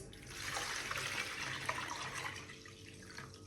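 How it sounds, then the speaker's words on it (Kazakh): Warm water pours into a bowl for bread dough, a soft steady splashing trickle for a few seconds, fairly quiet and heard alone. "Жылы суымызды құйып алдық."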